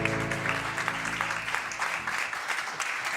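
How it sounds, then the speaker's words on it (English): An audience at a business launch event applauds as a speaker from Germany is introduced, a full, continuous clapping close to the room that runs steadily throughout, with a low hum fading underneath. "Big applause."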